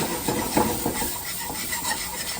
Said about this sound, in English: we're going to add in a 1/4 cup of our flour, and we're just going to stir that around